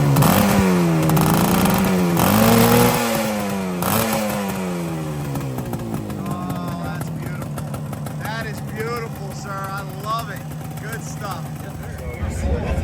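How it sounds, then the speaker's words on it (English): A classic motorcycle engine revs its throttle a couple of times, rising and falling pitch sweeps up close, while people talk over and between the blips. "could I hear that sweet throttle a couple times?"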